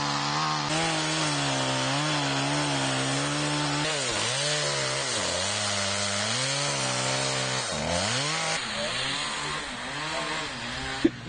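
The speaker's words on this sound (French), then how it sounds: "Alors, un coup de tronçonneuse, hein." A chainsaw runs loudly and continuously, its engine pitch dipping and rising as it bites into wood, close by with no speech.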